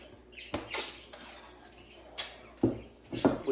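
A wooden spoon being handled while building a papier-mâché volcano craft: a few scattered clacks and knocks against other objects, close and fairly quiet, with no talking.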